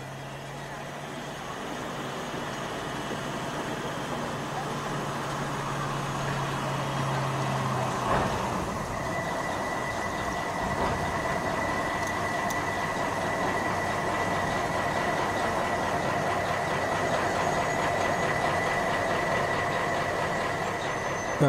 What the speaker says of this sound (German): 332-092 rollt im Museums-BW Nördlingen auf die Scheibe.